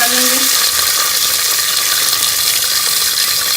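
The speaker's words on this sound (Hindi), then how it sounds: "ये देसी के अंदर मैं 2 चम्मच घी के डाल दूंगी। और इसके अंदर ये प्याज को डाल के हम ब्राउन कर लेंगे।" Onions frying in ghee in a pot for keema karahi, a loud steady hiss and crackle of sizzling that holds without a break.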